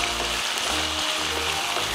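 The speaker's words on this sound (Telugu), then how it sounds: "ఈ క్షణం నుంచి ఆలుగడ్డలతో పాటు తాలింపు కూడా వేగుతూనే ఉంటుంది" Potato pieces frying in oil with tempering seeds give a steady, close crackling sizzle that runs evenly throughout, with no voices.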